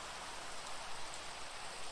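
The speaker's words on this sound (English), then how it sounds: "Oh. Now it's raining. Rain happens completely randomly." Steady rain falls in the Minecraft video game, a continuous even hiss of drops with no breaks and no talking over it, soft and uniform throughout.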